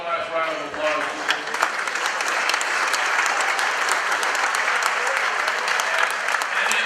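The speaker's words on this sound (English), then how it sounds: "Let's give all of our sponsors one last round of applause." A room full of people at an engineering contractors' public officials night applauds the event sponsors, a broad, sustained wash of clapping with faint voices underneath, building after a brief speaking moment at the start.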